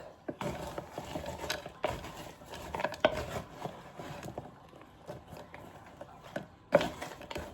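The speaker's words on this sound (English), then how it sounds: "So I'm going to get a spoon and mix it all." A spoon stirring beef strips and vegetables in a crockpot, with scraping, clinking and knocking against the pot in irregular bursts, close and fairly quiet.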